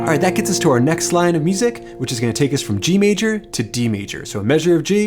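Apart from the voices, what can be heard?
None of the usual background noises is heard.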